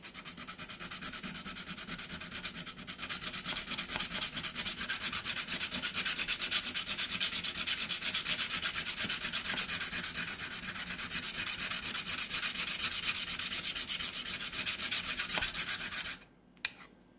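A knife blade rubs back and forth across an Atoma quarter-size curved diamond sharpening plate, a steady, dense gritty scraping that runs without pause, close and even, before stopping abruptly near the end.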